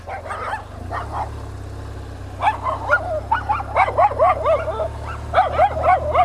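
Dogs near a church close to a railway bark and yip in irregular bursts, a run of sharp, repeated barks building toward the end, fairly close and loud over a low background rumble.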